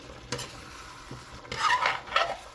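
Food cooking in a pan is stirred with a utensil. Close scraping strokes and a couple of sharp knocks come over a soft background sizzle, and there is no speech.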